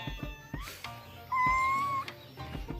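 A house cat near its little cat house gives a single drawn-out, steady meow lasting under a second, moderately loud against faint shuffling and handling noises, with no one talking.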